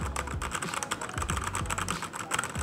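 Quick, steady typing rattles on a Machenike K500 mechanical keyboard with red switches. The keystrokes are close and clicky, coming in a busy rhythm with no talking.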